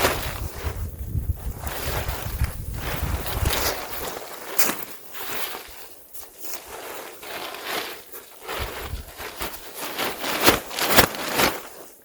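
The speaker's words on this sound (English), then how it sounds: "Fortunately, it's kind of a warm wind." Warm, breezy wind gusting across a snowy winter backpacking trail in Colorado, a steady broadband rush with louder buffeting gusts against the microphone and a few soft crunching steps.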